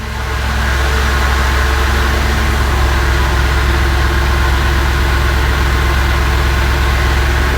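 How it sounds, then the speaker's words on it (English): An Audi S4 B7 engine and exhaust idle loudly and steadily at close range, a deep, even rumble with a constant throb and no talking. "we gotta hear that exhaust"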